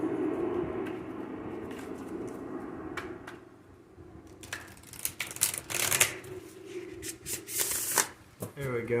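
A thick tarot card deck is shuffled by hand in quick riffling bursts with soft card slaps, close and clear, while a person talks in between.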